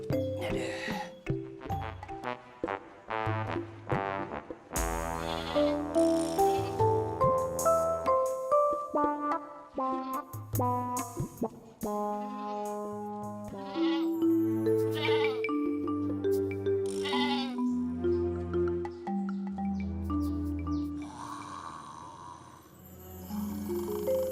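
A goat bleats repeatedly in loud, drawn-out cries mixed with melodic, music-like tones that step up and down throughout.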